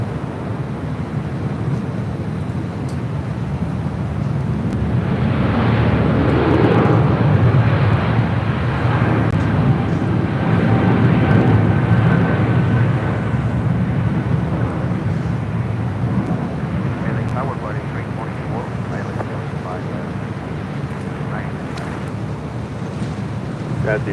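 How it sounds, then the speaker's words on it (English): Boeing 777 on its takeoff roll at LAX, a broad roaring jet rumble that swells near the middle and stays loud and steady for the whole stretch, wind buffeting the microphone. "777 now rolling."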